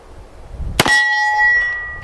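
A single sharp bullet strike slams into a steel target nearby, and the target then rings with a clear sustained metallic tone that fades slowly over the next second.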